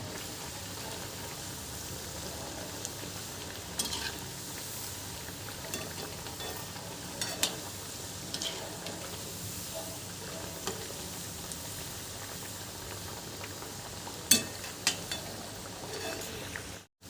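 Kothimbir vadi, coriander fritters, frying in hot oil: a steady broadband sizzle runs throughout at moderate level, with a few sharper crackles and pops near the end and no voices.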